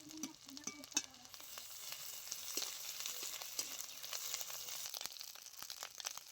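Onion paste and ginger paste fry in hot oil, giving a soft, continuous close-up sizzle with scattered small crackles and a few light utensil taps.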